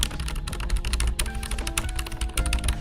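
Rapid typing on a computer keyboard right next to the microphone, a dense, uneven stream of crisp key clicks and clacks, close and clear with no talk.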